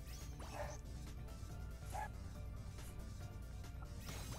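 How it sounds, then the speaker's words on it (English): A dog barks a few times in the background, faint and short, under continuous game music and sound effects. "there goes my dog in the background"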